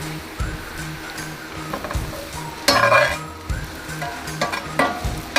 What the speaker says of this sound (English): Sweating the onions out.